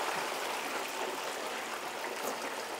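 Pre-battered chicken tenders dropped into hot oil in a deep fryer set off a continuous, dense bubbling hiss that stays even and close throughout, with no voices.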